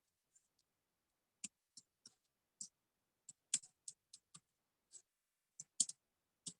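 Sparse, irregular keyboard typing on a computer, a dozen or so light clicks and short bursts spread over several seconds, close and fairly quiet with no talking.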